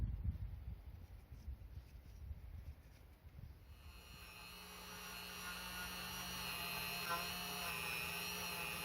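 A corroded motorcycle sprocket carrier from a Honda CD50 being rubbed down with sponge sandpaper; a steady abrasive scrubbing builds after a few seconds of quieter low rumble, continuing evenly and close up to the end.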